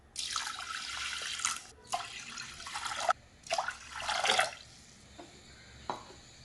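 Rice being rinsed in water for a vegetarian lunch, heard as several separate bursts of running and sloshing water with short quiet pauses between them, close by and without talk.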